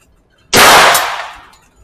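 A single loud, sharp blast from a gun firing a magazine, striking hard and then ringing away over about a second, close and with no voices.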